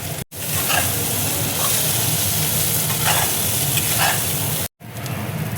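Pointed gourd paste fries with onions in a pan for a Bengali bharta, giving a continuous loud sizzle with occasional stirring scrapes and two short silent gaps.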